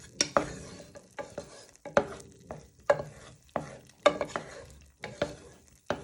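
Butter melting in a pan on low heat, marked by a steady run of sharp utensil taps and scrapes against the pan about every half second over a faint sizzle, close up with no voices.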